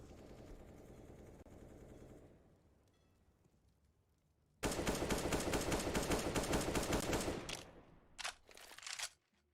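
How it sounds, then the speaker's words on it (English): Rapid automatic rifle fire in a CS:GO match between Apeks and Prospects, with a quieter stretch of distant shots and sparse sounds before a sudden loud sustained burst of gunfire, then a few short separate bursts. "Now, shots are just being popped off."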